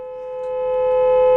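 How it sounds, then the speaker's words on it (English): The horn of a 2018 Audi A6 2.0T Quattro sounds in one steady, continuous blast lasting about a second and a half, close up and slowly swelling in loudness. "let's do the horn too."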